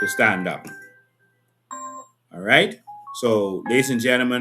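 A short electronic chime from an incoming alarm company call sounds once, a clear tone in a brief pause between stretches of a man's speech.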